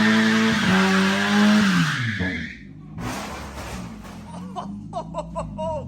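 A Mazda Miata driven hard with its engine revving loudly, then tires squealing and skidding through a turn, followed by scattered bursts of engine and tire noise, with faint laughter in the background.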